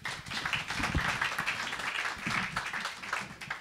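An evening stage-event audience applauds, a dense crowd of hand claps rising quickly and continuing steadily at moderate loudness with a slight fade near the end.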